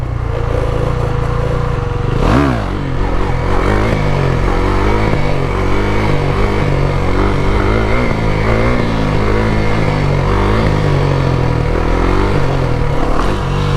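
KTM Duke 390 motorcycle ridden on a bumpy road, its engine droning loudly with shifting revs while a cheap handlebar-mounted display holder rattles; constant close engine and wind noise with no speech.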